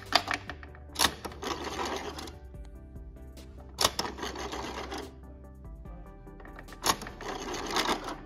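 Vintage Barbie Totally Real House toy washing machine whirring and clicking as its drum spins when pressed, with three sharp clacks at the button presses and a steady mechanical buzz between them, close up with no talking.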